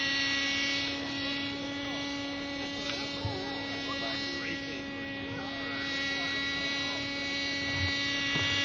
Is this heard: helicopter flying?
yes